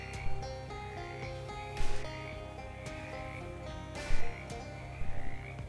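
Frogs croaking in the video game Shadows Over Loathing: a few spaced, short croak bursts over a steady droning ambient music bed, no talking.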